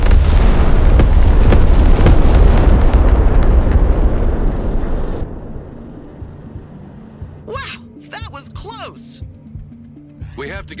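Ballistic missile strikes in the video game Broken Arrow, a loud, sustained rumbling blast roaring for several seconds before dropping away, followed by voices shouting over a low background.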